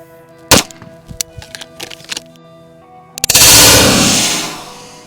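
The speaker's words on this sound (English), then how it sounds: "where we have nice fresh armor to shoot." A Winchester Ranger 9mm hollow point is fired into Level IIIa body armor. A few sharp clicks and light handling knocks come first, then one very loud, close gunshot rings out and decays over about two seconds.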